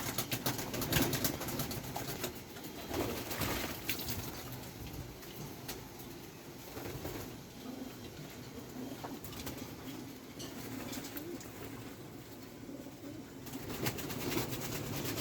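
Pet pigeons coo repeatedly while bathing, their low throaty calls rising and falling over a constant wet splashing and pattering, fairly faint and continuous with no talk.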